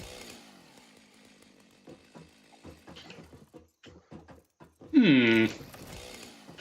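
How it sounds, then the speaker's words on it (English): A chainsaw in the video game Satisfactory gives a loud, buzzing rev for about half a second, rising sharply above quieter game sounds and scattered talk. "This is the zapper, this is the chainsaw."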